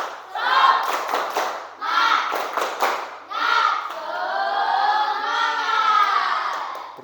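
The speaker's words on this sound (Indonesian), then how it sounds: "Kita tepuk semangat boleh tidak? Tepuk semangat." A school class performs a rhythmic spirit clap, with patterned group clapping and children's voices chanting together in loud bursts before a longer sustained shout.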